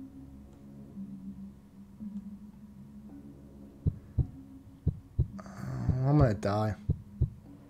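Heartbeat sound effect in the video game Paper Lily: a series of low, regular thumps, loud and close, with a voice speaking and a musical tone rising over the last few beats.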